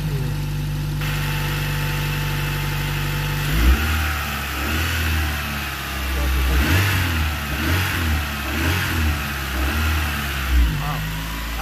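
A wrecked Honda car engine cranks over, catches and runs, revving up and down in loud uneven bursts close by before settling toward idle, with a voice talking over it.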